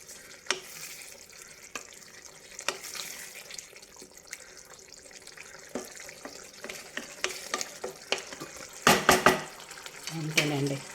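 Mango prawn curry being stirred in a pan, with scattered spoon clinks and scraping over a soft sizzle, busier and louder near the end.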